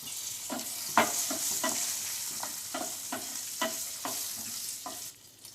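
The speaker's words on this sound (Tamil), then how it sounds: "அடுத்தது சின்ன வெங்காயம், இஞ்சி, அதையும் சேர்த்து வதக்கிக்கலாம்." Shallots and ginger sautéing with cumin and fennel in a pan for Salem mango curry, a steady sizzle broken by a run of sharp spatula scrapes and stirs at irregular intervals, close and moderately loud, no voices.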